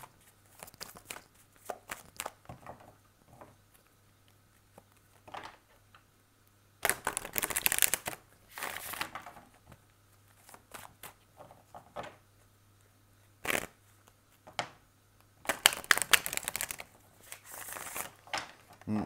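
Tarot cards being shuffled in scattered crisp, papery bursts of riffling and slapping, close and moderately loud, separated by quieter pauses over a steady low hum.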